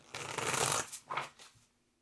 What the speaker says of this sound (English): One more shuffle.